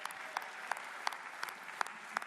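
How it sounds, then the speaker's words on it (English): A thin crowd at an awards watch-along claps for the MCs, crisp scattered hand claps repeating at an uneven pace against a quiet background. "Can we clap hands for our excellent MCs?"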